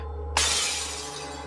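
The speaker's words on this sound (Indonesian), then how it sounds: "Dari arah dapur terdengar suara piring pecah." A ceramic plate shatters in a kitchen, one sudden sharp crash of breaking crockery followed by a bright, fading spray of fragments over a low steady hum.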